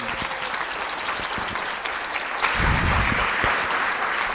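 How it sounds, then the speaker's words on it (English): An audience at a philanthropy forum applauds a panel. The clapping is broad and sustained, swells louder partway through and continues without speech. "Once again, a round of applause for that panel"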